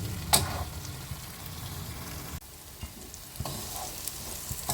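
A spice masala for Bengali katla fish kalia fries in oil, making a dense sizzle. Intermittent stirring scrapes and a few sharp spatters sound close by, with no voices.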